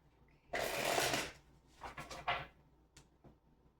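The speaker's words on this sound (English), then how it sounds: "one more shuffle." Tarot cards being shuffled in a quick, loud riffle, followed by a few shorter, softer shuffles and taps, close by with no talking.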